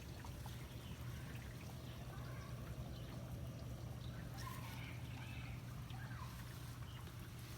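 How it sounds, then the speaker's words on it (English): Water drains from the holding tank of a Geo Pro 19F camper, a faint steady trickling pour over a low constant hum, unbroken throughout. "we have more water draining out of our tank"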